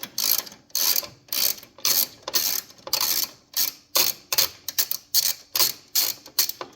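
A ratchet on a wobble extension backs out bolts on a 1940 Harley-Davidson UH during a jockey clutch pedal install, ratcheting in steady loud bursts of rapid clicks with short pauses, close and without talk.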